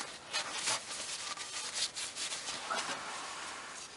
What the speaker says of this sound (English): Wipe the drain clean with a clean rag or towel.